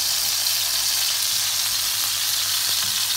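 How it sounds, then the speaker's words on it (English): Gravy for Thai fish boiling and sizzling in a pan, a dense, steady crackling hiss heard up close without pause or voices. "So look, my gravy is boiling now."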